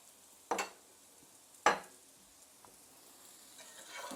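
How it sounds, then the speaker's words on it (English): Bacon is stirred back into golden fried food in a pan, two distinct utensil scrapes over a faint low sizzle, quiet and close with no talking. "I'm going to add all of my bacon back in and give this a little mix."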